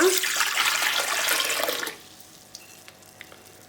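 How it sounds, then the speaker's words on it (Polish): Lukewarm water pours steadily from a container for yeast dough, a loud continuous splashing stream that stops abruptly after about two seconds, followed by a few faint clinks and drips. "Do ciasta drożdżowego potrzebujemy tutaj jest letnia woda"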